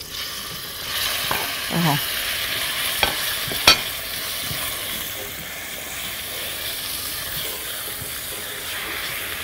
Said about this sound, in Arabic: هنحط معلقه زيت اهو كده، ماشي، ونقوم جايبين كده معلقه ونحط اللحمه